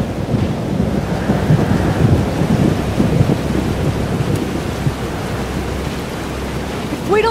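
Thunderstorm in Life is Strange: Double Exposure, heavy steady rain roar with low rumbling thunder throughout, loud and continuous, no talk over it.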